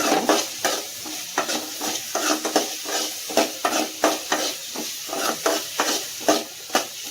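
Chopped onions sauté in a hot pan, a steady sizzle broken by repeated rhythmic scrapes and clacks of a stirring spoon, close and fairly loud, with no voices.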